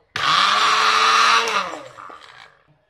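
Ghetkol leaves being ground into a paste in an electric blender with a little water, a loud close whirring that runs about a second and a half, then winds down and stops.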